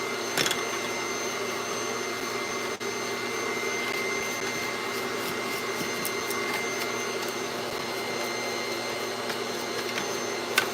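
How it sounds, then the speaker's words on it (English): A Dyson V11 cordless vacuum cleaner runs steadily with a loud, even motor whine and a few brief clicks and bumps, no talk heard. "Let me just run the vacuum one more time again, just to be on the safe side."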